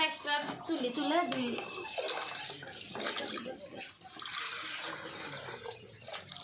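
Water is scooped from a bucket and poured out during brooding of day-old ducklings, a steady splashing and trickling that runs close by beneath people talking.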